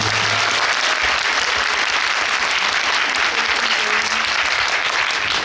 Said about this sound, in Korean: 큰 박수 한 번만 더 부탁드립니다